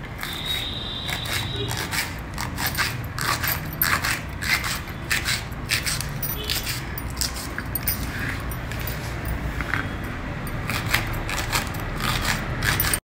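Green chillies being cut into pieces for a South Indian style pickle, a steady run of quick crisp snips and chops, close and fairly quiet, with no talking.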